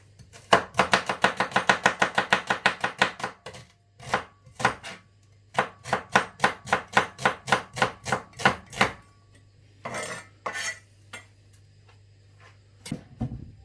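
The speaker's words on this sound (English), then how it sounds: "cut it finely. Same with the other half." Knife chopping onion finely on a cutting board, with rapid even runs of crisp close taps, then a short pause and further bursts of chopping, with no talk.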